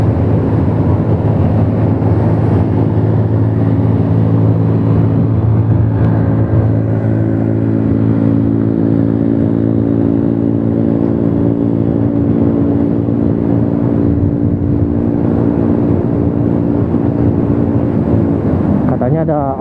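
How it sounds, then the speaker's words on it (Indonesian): A motorcycle fitted with a loud aftermarket exhaust rides through city streets. Its engine drones steadily and close for about twenty seconds, with a rich, rumbling tone that barely changes. "tapi kok masih ada knalpot brongnya ya."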